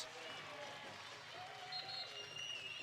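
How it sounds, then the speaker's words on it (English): Crowd at a Michigan Wolverines vs. Penn State Nittany Lions volleyball match cheers and applauds after a point, a steady, dense roar of clapping and voices with a commentator talking over it. "You can tell after every point, the crowd's just a little more livelier right now"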